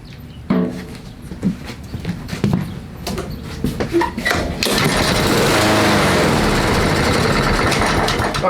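A Honda engine with an aftermarket carburetor, starved of fuel, sputters with a few uneven bursts and clanks before catching and running at a loud, steady drone close by.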